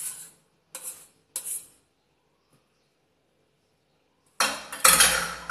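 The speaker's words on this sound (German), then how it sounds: "Und das Ganze verrühren wir jetzt und kneten das." Spoon scraping and clinking in a bowl while Hefezopf dough ingredients with chopped butter are stirred together, in three short bursts, then a louder, busier stretch of stirring and clattering near the end.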